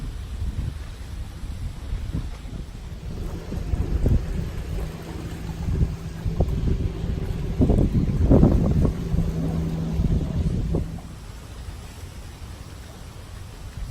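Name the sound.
wind blowing outdoors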